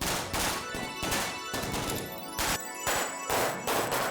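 Firecrackers burst during Diwali in a rapid series of sharp, loud cracks in quick irregular clusters, with dense crackling between them, close and with no talking.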